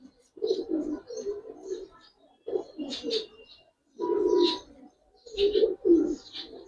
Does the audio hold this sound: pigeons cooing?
yes